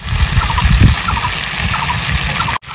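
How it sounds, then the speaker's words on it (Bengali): Water pours steadily into a pot of browned mutton curry, a continuous gushing splash that runs close and loud for nearly three seconds before cutting off. "এখন আমি দিয়ে দেবো জল।"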